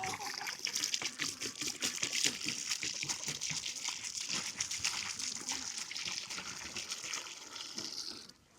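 Water trickles and splashes, likely poured for thirsty chickens on a cold winter day around ice; it is close and steady, with some soft handling noise.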